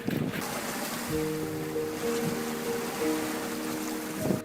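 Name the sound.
motorboat engine speeding away over ocean waves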